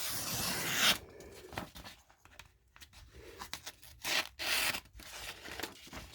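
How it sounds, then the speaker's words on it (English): A Kase knife in 4V steel slicing through paper, heard as close, soft scraping and rasping strokes in irregular bursts, some smooth and hissy, others broken into short rustles, with no talking. "Smooth as silk going through that paper."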